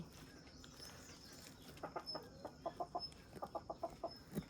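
Quiet clucking from a rooster in quick rhythmic bursts toward the end, over a faint outdoor village background with a distant high bird note.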